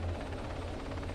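Video-game helicopter heard as a steady, droning rotor and engine hum with a low throb, continuous and fairly loud throughout with no talking.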